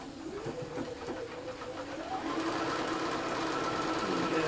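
A sewing machine stitches down a quilt block in one continuous close whirring run that rises slightly in speed and pitch partway through.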